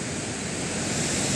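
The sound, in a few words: mountain river flowing with full force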